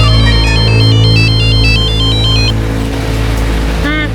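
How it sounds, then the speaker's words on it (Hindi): A phone's ringback tone repeats in electronic beeping pulses over a loud engine-like rumble, stopping partway through before a short chime near the end. "अपनी मोना डार्लिंग को फोन लगा और अगर बंद आया ना तो देख"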